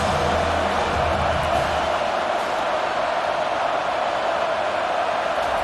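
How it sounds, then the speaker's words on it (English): A dense, steady roar of a large stadium crowd in the video game College Football 25 holds at a constant level throughout, broad and distant with no distinct voices standing out. "This crowd bringing the energy and noise early."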